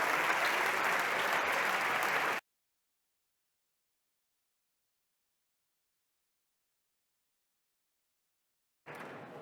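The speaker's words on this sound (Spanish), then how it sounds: "Pido un aplauso, por favor" An audience at a political party convention applauds, dense clapping for about two seconds that cuts off abruptly into silence, then resumes briefly at the end.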